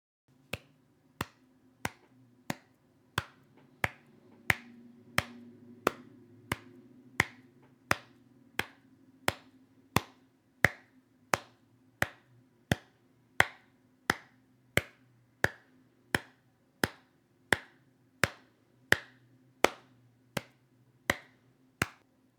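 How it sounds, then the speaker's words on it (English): Small, sharp taps repeat at a steady, even pace, around thirty distinct clicks in a row, close and crisp over a faint low hum, with no talking. "I will make a small tapping sound with 4 taps to remember the number and 4 taps to transform and report the number."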